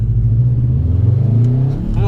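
A loud car engine revs with a deep, throaty rumble that sustains and wavers close by, with someone talking over it near the end.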